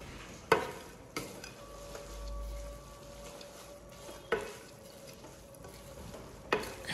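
Pancit bihon and canton noodles being stirred in a pan, a few sharp scrapes and knocks of the utensil over a low, steady sizzle, with no one talking.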